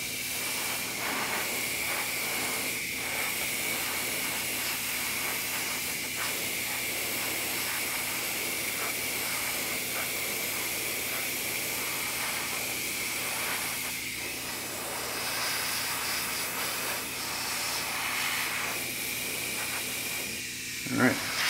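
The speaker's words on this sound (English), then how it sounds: "I don't like to spray this too much out on the bench." A spray can sprays paint onto the hands of a 1/4 scale Aquaman figure on a workbench, a steady loud hiss running almost unbroken throughout.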